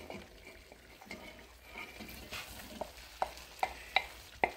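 Carrots, baby potatoes and celery go into a stew pot on a woodstove, with soft liquid stirring and sloshing, then a run of sharp clinks against the pot near the end.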